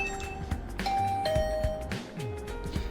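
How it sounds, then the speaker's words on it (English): A synthetic electronic doorbell in the video game The Hundred Line: Last Defense Academy chimes a few sustained tones over a busy game background of soft music and effects. "I rang the doorbell to Tsubasa's room."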